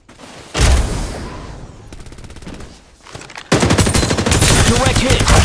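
Rapid automatic gunfire from the battle game Farlight 84 in loud, dense bursts, a shorter rattling stretch in the middle giving way to sustained heavy firing, with brief game voice lines.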